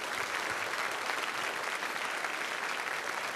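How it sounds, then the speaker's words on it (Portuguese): A congregation at a Catholic televised worship program applauds, a dense, even wash of clapping that holds steady and fairly loud for the whole stretch, with no voices on top. "Vamos aplaudir o Senhor Jesus?"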